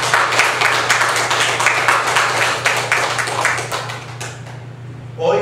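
A church congregation claps together for several seconds, a dense sustained round of applause over a steady low hum, fading out near the end before a brief burst of noise.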